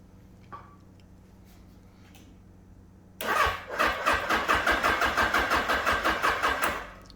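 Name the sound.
1981 Suzuki GS750 motorcycle engine cranking with starting fluid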